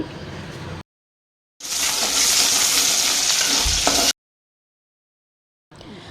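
Noodles sizzle and hiss as they are fried and stirred in a hot pan, loud bursts of frying broken by abrupt silent gaps.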